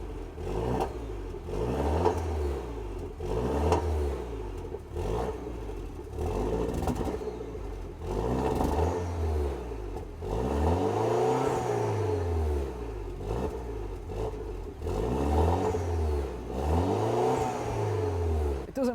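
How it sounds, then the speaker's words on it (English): A Peugeot 208 GTi engine is repeatedly revved, rising and falling in roughly a dozen surges, with a faint rapid ticking from a fault underneath the steady idle. "I'm going to give you guys a little tap of the gas and show you how it sounds"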